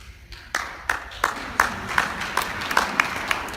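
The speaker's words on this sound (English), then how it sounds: "A.G. Healy, she got a round of applause." An audience at a talk on legalization applauds, as separate claps arrive at an even pace and slowly build into a thicker round of applause at moderate volume.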